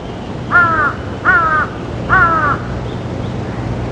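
A Formosan blue magpie gives three harsh, crow-like rasping calls spaced about a second apart, loud and near, over a low steady background hum.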